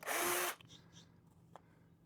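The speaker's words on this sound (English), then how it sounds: "this drill bit just went" A power drill whines loudly for half a second as it bores through an Acerbis supermoto plastic fender on a 2023 Kawasaki KLR 650, then stops, followed by a few faint clicks and handling noises.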